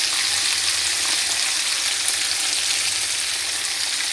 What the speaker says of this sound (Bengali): তেলের মধ্যে যে বরবটিগুলো ভেজে নিচ্ছি।